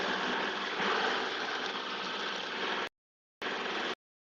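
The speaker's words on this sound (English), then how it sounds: "put it in neutral, and then I crank it up. The RPMs to run the backhoe" A heavy backhoe tractor engine runs steadily at a low, rumbling idle in neutral, close by, then cuts out abruptly, returns briefly, and stops again.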